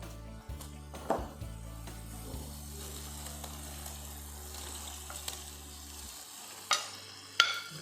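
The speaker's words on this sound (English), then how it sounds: "Now what I'm going to do is I'm going to add the prawns." Prawns going into a hot pan for a fiery prawn pickle, with a soft sizzle and scraping stir strokes over a low steady hum, punctuated by a few sharper clicks near the end.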